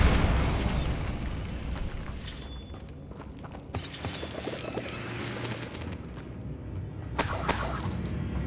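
In the Hogwarts Legacy video game, a Bombarda spell set off among other spell effects makes booming, shattering blasts. They come in bursts over a crackling, rumbling background.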